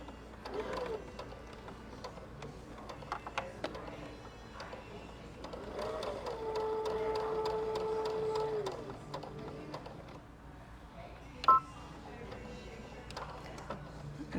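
A sewing machine stitches the corner of a fine-fabric napkin hem with a hemming needle, its fast mechanical whir running in short bursts forward and back, moderately loud, with a steady stretch in the middle and a click near the end.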